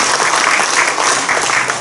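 Loud, dense applause from an audience at a church general assembly candidates' policy debate, a continuous close roar of many hands clapping throughout with no talk.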